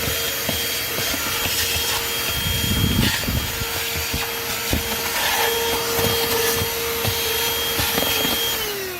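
A THISWORX portable handheld car vacuum cleaner running with its long extension attached, a steady loud motor whine with scraping and rubbing as debris is sucked up, close and continuous.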